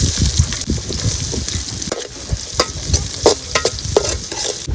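Onions hit hot oil already holding bay leaf and cinnamon for a snail meat gravy, crackling loudly up close with repeated spatula scrapes and stirring knocks over a continuous sizzle.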